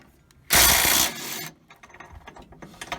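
A DeWalt impact wrench set to 150 foot-pounds fires on a bolt in one loud, close burst of about a second, then cuts off, followed by quieter clicks and handling noise.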